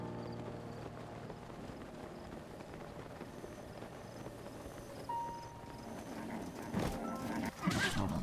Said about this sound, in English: this Ganondorf's horse